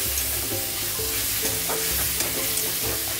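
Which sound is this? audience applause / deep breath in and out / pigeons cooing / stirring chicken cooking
stirring chicken cooking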